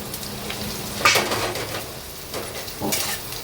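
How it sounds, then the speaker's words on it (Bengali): Onion and ground kharkol leaf paste sizzle in a hot pan while a utensil scrapes and stirs, with a few clinks of metal against the pan. "এবার এটা কিন্তু একদম ভালো করে শুকনো শুকনো করে কড়া করে ভেজে নিতে হবে"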